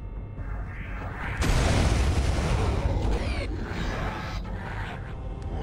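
A heavy shotgun blast from Turok 2 hits with a sudden loud boom, followed by a rumbling, sustained roar that slowly fades into game noise.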